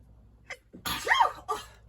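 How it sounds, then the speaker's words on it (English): A single sharp sneeze preceded by a couple of quick breathy inhales, close and loud, followed by a short trailing breath. "oh gosh, I think I have to sneeze."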